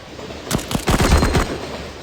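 Gunshots in the Cover Fire mobile shooter game, a quick cluster of about eight loud, sharp cracks in rapid succession, close and prominent.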